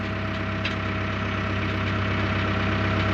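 A JCB backhoe engine idles at a roadside tyre repair, a loud, steady diesel rumble with an even low throb that runs unbroken throughout, close by and alone.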